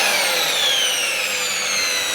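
An electric drill whirs steadily at slow speed, a continuous close motor whine that sags slightly in pitch throughout.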